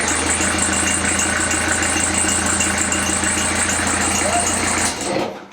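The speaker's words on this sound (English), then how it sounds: "That's the sound of our fan belt, and it shouldn't make that squeak sound." A narrowboat engine idles steadily, its loose fan belt giving a repeated high squeak over the low rumble throughout, close and continuous until it cuts off at the end.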